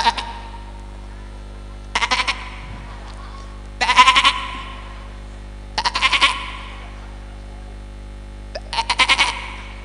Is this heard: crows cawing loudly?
no